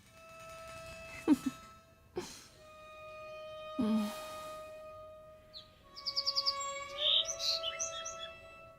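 A caged pet bird sings, scattered thin whistles and squeaks at first, then a quicker run of bright chirps and trills, fairly close over a quiet background tone.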